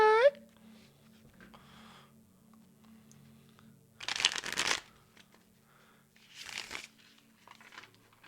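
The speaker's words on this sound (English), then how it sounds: "give this a good shuffle here" A deck of Rider-Waite tarot cards being shuffled by hand in two quick riffling bursts, close and crisp, separated by quieter handling noise with no talking.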